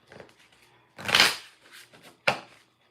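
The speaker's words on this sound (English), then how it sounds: "And I'm going to start shuffling." Tarot cards are shuffled in a few quick bursts of riffling and sliding, close and crisp, with short pauses between them and no talk.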